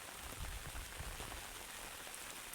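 Heavy rain pours down steadily over a village, a dense even hiss of drops striking surfaces throughout, with no voices.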